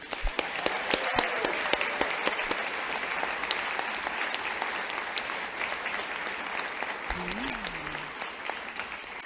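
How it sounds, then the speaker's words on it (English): Graduation audience at a Columbia University occupational therapy ceremony giving the graduating class a long round of applause, steady dense clapping from a large hall crowd, moderately distant and sustained throughout. "So let's give a big round of applause for this graduating class."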